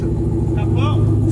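Chevrolet Camaro engine holding a steady, deep low rumble close by, with voices over it.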